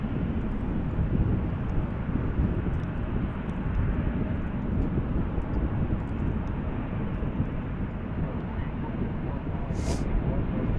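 A Qantas airliner at Dallas/Fort Worth International Airport, giving off a loud, continuous broadband jet roar that holds steady throughout.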